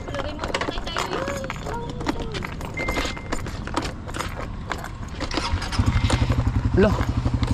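A close motorcycle engine chugs with a rapid, even pulse toward the end, after rattling and clinking sounds, while people talk throughout.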